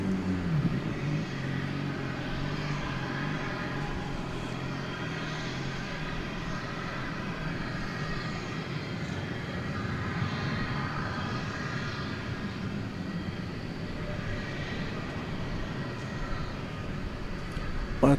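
A large jet airliner takes off at night at DFW Airport, heard from a distance as a steady broad roar of engine noise that holds throughout at a moderate level.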